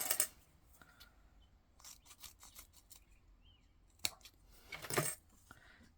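Scissors snipping paper for a craft project, several short crisp cuts spread out with quiet gaps, the loudest near the end, against a quiet room with no talking.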